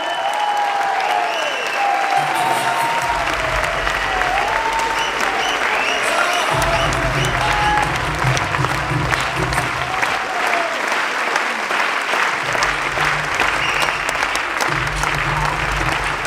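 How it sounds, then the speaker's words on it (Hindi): Loud, sustained audience applause welcomes a guest onto the stage at a leadership seminar. The clapping is dense and even, and background music swells in and out underneath it. "मैं चाहूँगा एक बार जोरदार तालियों के साथ उनको यहाँ पर बुलाया जाए।"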